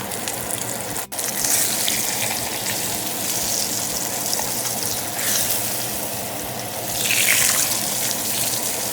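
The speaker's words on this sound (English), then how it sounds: "As the fish is frying" Fish frying in a pan gives a steady hissing sizzle, loud and unbroken, swelling a little in brief bursts, with no one talking.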